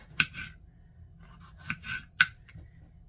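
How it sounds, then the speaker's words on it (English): A knife slicing through fresh tomatoes on a cutting board for a club sandwich, several separate crisp cuts at an uneven pace, close and fairly quiet. "we're gonna slice these up in just tomato slices."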